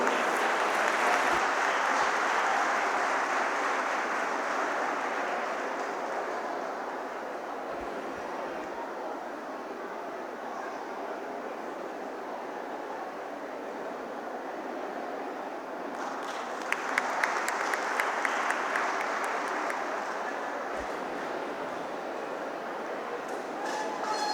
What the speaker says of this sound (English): please give a big round of applause for this cultural exchange programme